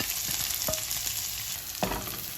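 Sliced onion, garlic, green chilli and curry leaves sautéing in a pan for a snake gourd curry, a steady close sizzle broken by a couple of clicks from stirring.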